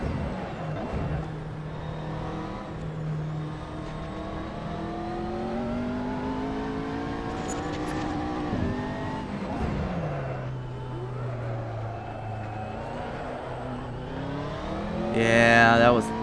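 Race car engine in the Assetto Corsa video game, a McLaren or X-Bow at Mugello circuit, steadily revving up and down through gear changes, close and continuous, with a sharp rasp near the end.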